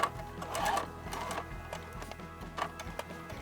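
A sewing machine stitches fabric around curves in short, steady runs of rapid mechanical clatter, pausing briefly as the direction changes, close and clear with no talking.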